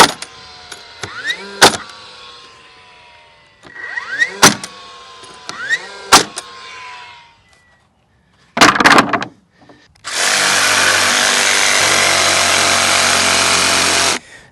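A jigsaw cuts pallet wood for a dog house in short bursts: high whining strokes start and stop three times, then a loud, dense, steady buzz of sawing runs continuously for several seconds near the end.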